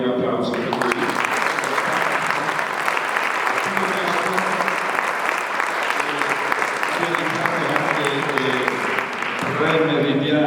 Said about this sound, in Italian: vorrei un applauso per lui